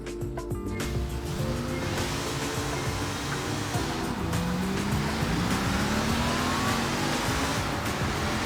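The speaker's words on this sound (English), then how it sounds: "your car will leap off the line with quite the boost start" Engine of a racing-game car revving hard at a boost start, a loud continuous roar with rising pitch sweeps and tire noise, alone without talk.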